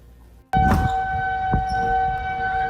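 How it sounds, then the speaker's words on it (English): Tornado warning sirens sound across South Fargo, starting suddenly and holding a loud, steady wailing tone for the rest of the moment, with no voices over it. "sirens were going off in South Fargo earlier this evening, warning residents to find a safe place and take shelter"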